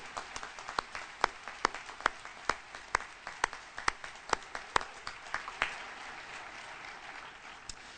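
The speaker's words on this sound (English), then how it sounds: "Would you join me in a round of applause to thank those who planned, ran, and gave of themselves to help you on Move-In Day?" Applause at a university convocation ceremony, beginning as sparse, sharp individual claps in a loose rhythm that thicken briefly into a softer spread of clapping.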